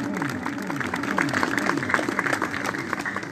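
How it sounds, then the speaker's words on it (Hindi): Applause from the audience at an ustad-shagird function, a steady broadband patter of many hands clapping with some crowd murmur and voices underneath, continuous throughout. "तालियां मार दो जी।"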